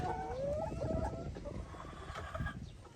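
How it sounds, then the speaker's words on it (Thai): Chickens cluck and squawk nearby in short bursts over a soft background hum; no one speaks. "ไก่"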